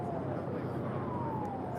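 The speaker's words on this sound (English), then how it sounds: "I hear a siren going off over there." A siren wails far off in the distance near the Port of Los Angeles cruise terminal, a faint, slowly falling tone under a steady wash of outdoor background noise.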